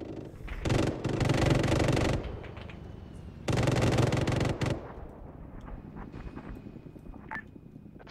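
Two long, loud bursts of rapid machine gun fire in a military shooter game, separated by a short gap, followed by quieter scattered shots and beeping tones.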